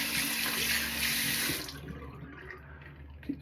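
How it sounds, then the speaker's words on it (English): Tap water runs steadily over hands at a sink during a wet shave with Alpha Latherflo, a loud continuous broadband splash that cuts off after about a second and a half, leaving quieter drips and faint handling. "Wash my hands again."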